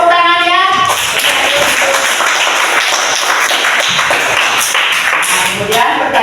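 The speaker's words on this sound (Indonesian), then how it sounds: "tepuk tangan ya" Classroom applause during a history lesson, steady dense clapping from a group of students held for several seconds, loud and close, with a faint voice near the end.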